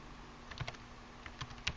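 Soft, quiet keystrokes on a computer keyboard typing a file name, a handful of light clicks spaced irregularly over a faint steady background hum, with no talking.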